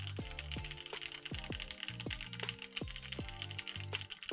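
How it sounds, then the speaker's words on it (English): Rapid, steady typing on a Baion Synovia mechanical keyboard with an ANSI layout, each crisp keystroke close and clear, forming a continuous clatter with no voices. "Thank you for calling me out, man, on my typing. It sounds so good."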